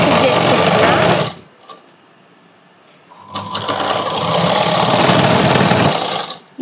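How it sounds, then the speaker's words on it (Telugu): Sewing machine running in two bursts while stitching the puff sleeve of a blouse, a steady loud whirring that stops for about two seconds in the middle, then resumes; a voice talks briefly near the start. "ఈ విధంగా ఈ హ్యాండ్ కూడా పైన స్టిచ్ చేసుకుంటున్నా."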